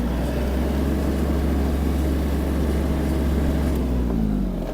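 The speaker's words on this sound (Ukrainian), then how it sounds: "трактор розганяється прекрасно" Kubota GL-261 tractor with a semi-hydraulic gearbox, its engine held at full throttle in a loud, close, sustained drone with a steady low rumble, pitch shifting slightly near the end.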